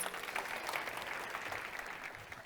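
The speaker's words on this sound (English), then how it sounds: "Give him a huge round of applause" Steady applause from an audience welcoming a farmer speaker at a talk on food and farming policy, an even wash of clapping heard fairly faintly and continuously throughout.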